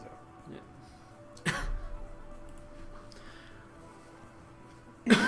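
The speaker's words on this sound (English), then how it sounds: "Coughing contest." Coughing in a quiet room, a couple of short sharp coughs spaced seconds apart against a faint background hum, the last one loudest.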